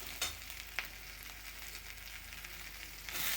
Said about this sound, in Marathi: आता कांदा लाल झाला आहे, टोमॅटो टाकते.